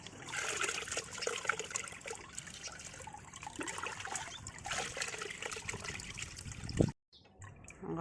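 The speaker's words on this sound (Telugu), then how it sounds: "నేను 6 డొక్కులు నీళ్ళు వేసాను ఇందులో" Water trickles and splashes steadily into a bucket for several seconds, then stops abruptly near the end.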